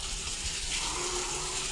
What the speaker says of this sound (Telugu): అయ్యో ట్యాప్ ఇప్పేసి